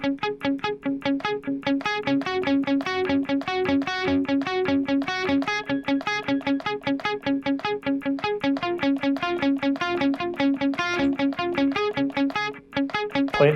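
Distorted electric guitar lead part from a song, second verse, played through an effects unit with barred first-finger shapes, a steady run of picked notes repeating loudly and evenly for over thirteen seconds.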